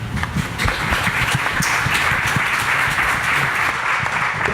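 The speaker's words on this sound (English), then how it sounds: "We'll save the applause because it's really for these folks right here." Audience applause at a Denver business panel event, a steady dense wash of clapping from a crowd filling the room at an even level throughout, with no voices over it.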